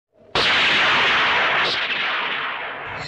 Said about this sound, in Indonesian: tiba-tiba anak buah Nares datang dan mencoba menembak mereka